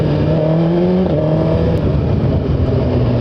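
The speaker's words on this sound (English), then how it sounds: "That induction sound though." A 2017 Suzuki GSX-R1000 sportbike's engine induction roar while riding, a loud steady intake howl whose pitch dips briefly mid-way before holding again, with no talk over it.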